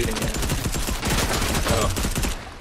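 Dense gunfire in the Fortnite video game, rapid overlapping shots rattling continuously and loud throughout the short stretch.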